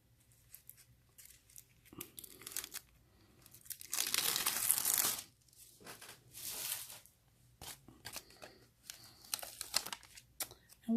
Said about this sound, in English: If I can peel this off here.